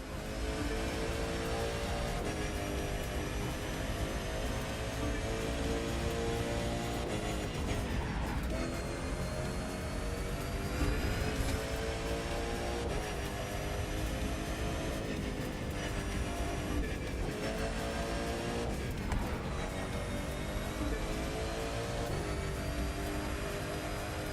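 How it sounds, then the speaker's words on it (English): Racing vehicle engines in The Crew 2 drone continuously near a lakeside resort at Lake Tahoe, with several engines overlapping and their pitch repeatedly rising and dipping as they accelerate and shift. "Those engines are gonna make for a loud wake-up call if anyone's sleeping in this resort area today."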